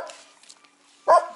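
A single sharp bark from a thin stray dog rings out near the end, loud and close, after a second of quiet with faint shuffling sounds.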